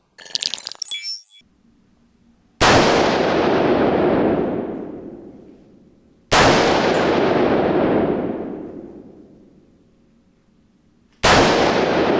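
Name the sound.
gunshots from Strela Y-2 .223 rifle test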